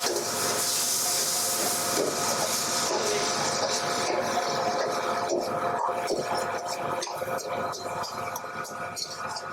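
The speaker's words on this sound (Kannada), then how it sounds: "ನೋಡಿ ಇದನ್ನ ಲೈಟ್ ಆಗಿ ಇದನ್ನ ಫ್ರೈ ಮಾಡ್ಕೊಂಡಿದ್ದಾರೆ" Garlic, green chili, ginger, onion and tomato fry in a pan for a paneer kofta curry, giving a loud, continuous sizzling hiss that eases slightly near the end, with a voice faintly underneath.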